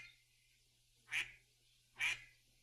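Two loud, clipped duck quacks about a second apart, each a short nasal burst over a quiet background with a low steady hum, no talking.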